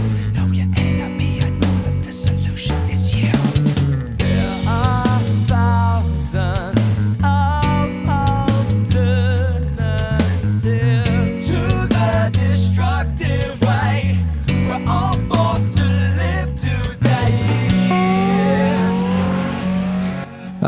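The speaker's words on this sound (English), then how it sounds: "That's the sound of the traffic outside my house," Loud road traffic outside a house, with cars accelerating and revving past and tyres squealing, blended throughout with a steady droning musical tone.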